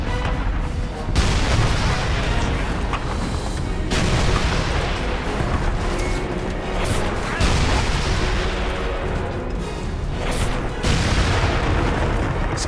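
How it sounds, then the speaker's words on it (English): Cannon blasts boom repeatedly in the Western shooter Call of Juarez: Bound in Blood, heavy shots at irregular intervals over a constant battle din. "Cannon's got some fast reloading."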